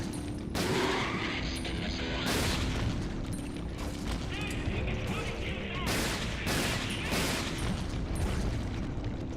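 Gunfire in the video game Resident Evil: Dead Aim, a rapid burst of loud, close shots with booming, crashing impacts and mechanical clatter, running almost continuously and broken only by short gaps.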